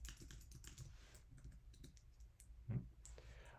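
Keys clatter on a computer keyboard during an R programming session, quick soft irregular clicks at close range and low level, with one louder thump partway through and no speech.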